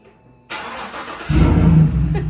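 A lowered truck's engine cranks after a short quiet pause, then catches and settles into a loud, rumbling idle close by, with no talking over it.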